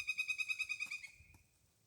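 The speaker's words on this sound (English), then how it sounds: "Woodpeckers are out this morning." Woodpeckers call from trees on a morning near a garden, giving a rapid run of about eight clear, ringing notes that trail off quickly, close and alone.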